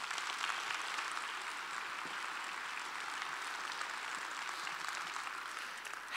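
Audience at a Celebration of Heroes event applauding sponsoring companies, a steady wash of many hands clapping at moderate distance, sustained throughout without talk.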